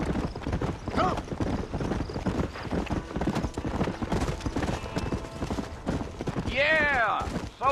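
A horse in Red Dead Redemption (2010) is ridden at speed, with dense, rhythmic hoofbeats close up and a loud whinny near the end over the game's ambient sound.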